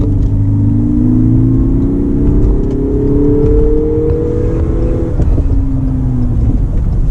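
A 2019 Lexus NX300 F-Sport accelerates onto a highway, its engine note climbing in a smooth, continuous drone over road rumble, then easing briefly near the end, with no talking.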